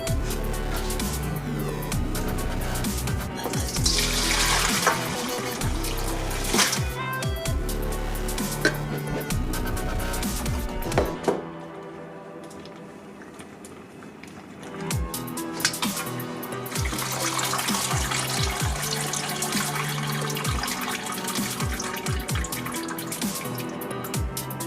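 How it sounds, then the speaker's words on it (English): Boiled shrimp shells and heads strained for shrimp broth, a steady near pour and splash of liquid running through a strainer into a sink or bowl, with a brief lull midway before the flow resumes, no talking. "we're going to start off by straining our shrimp shells and shrimp heads"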